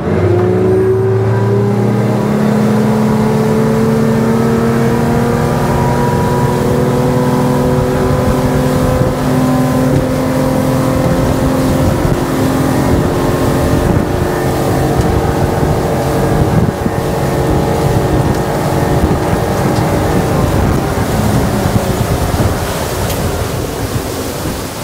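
A Haines Hunter 680 boat with a Yamaha 300hp outboard accelerates from a rolling start, the engine loud and close, its pitch climbing steadily through gears of speed as water and wind rush past, with no talk.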